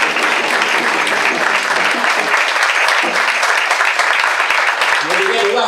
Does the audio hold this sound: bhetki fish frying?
no